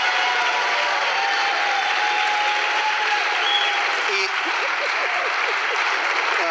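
A studio audience at a televised talent show bursts into steady, loud applause that fills the whole stretch, with a brief voice cutting through near the end.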